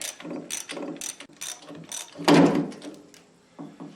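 Quick bursts of ratchet clicking as bolts are loosened to remove the starter from a Miller Trailblazer welder, several short rhythmic runs close up, with a louder clunk midway.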